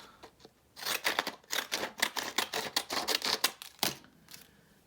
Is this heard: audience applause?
no